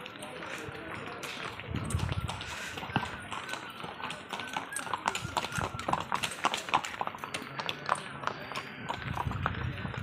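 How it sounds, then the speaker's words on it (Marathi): Horses walk along a path at the Matheran hill station, their hooves clip-clopping in a steady, uneven rhythm close by, with people talking and general outdoor bustle around them. "घोडे बघा."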